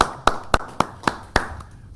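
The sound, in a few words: council meeting audience applause for the budget team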